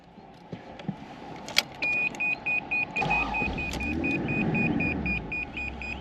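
A 1984 Toyota Celica Supra with a 5-speed cranks and fires up nearby, its engine settling into a steady rumble after keys jingle and a run of repeated electronic warning beeps chime.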